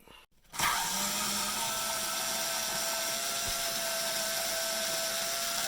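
A powered driver with a 7mm socket spins out a center console bolt on a 2005 Hummer H2, starting abruptly after a short pause and then whirring in a steady, close, high-pitched drone.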